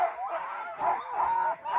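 Sled dogs on a Swedish trail bark and yip excitedly at a stop, a rapid overlapping chorus of high calls close by, with a voice briefly heard among them.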